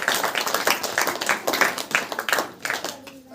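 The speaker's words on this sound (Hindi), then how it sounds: "ताली बजाकर परमेश्वर को" A congregation at a Hindi-language Christian prayer meeting clapping hands in quick, rhythmic unison, a lively steady beat of many hands that thins out at the very end.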